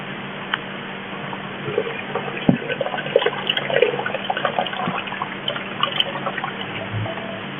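Homebrew wort for a double IPA is poured back over the grain, giving a steady, faint trickle and splash of liquid with a few small knocks, continuous throughout and without speech.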